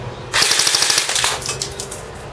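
A JG G3 airsoft rifle fires a loud full-auto burst of rapid, evenly spaced shots, then stops, leaving brief mechanical clatter and room noise.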